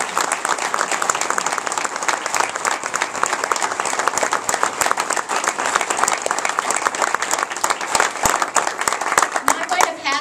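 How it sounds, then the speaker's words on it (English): A crowd applauds organ donors and transplant recipients who are standing, a sustained, even roar of many hands clapping with crisp individual claps, plus some faint voices, including a child's. "Can we all give them a round of applause?"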